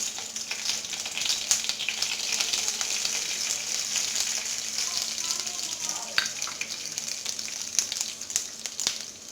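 Cumin seeds sizzle and crackle steadily in hot oil in a pan while a black bean masala is being cooked, a continuous close hiss with scattered small pops throughout.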